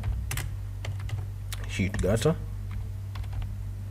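Typing on a computer keyboard while entering a profile name in structural modelling software, a quick run of close, light key clicks with a brief burst of faint voice partway through.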